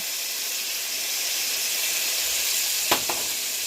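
Minced garlic hitting a hot pan with onions for Tuscan tortellini soup, a loud, bright hissing sizzle held steady throughout with a brief clatter near the end.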